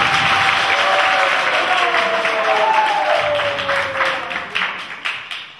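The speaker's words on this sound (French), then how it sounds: "Applaudissez vous-même." A crowd at a Guinean presidential election campaign rally in Morocco breaks into loud, sustained applause that gradually thins into scattered individual claps, with a faint voice briefly audible.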